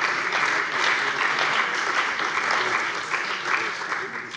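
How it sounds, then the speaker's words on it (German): Sustained applause fills a parliament plenary session, a dense, steady wash of many hands clapping at fairly even loudness throughout, with no speech over it. "Das war der Beifall für Breitenbach"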